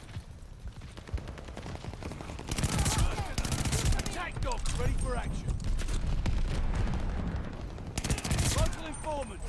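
Rapid bursts of machine-gun and rifle fire crackle through a Call of Duty Vanguard Hardpoint match, with loud volleys recurring over several seconds amid game voice chatter and sound effects.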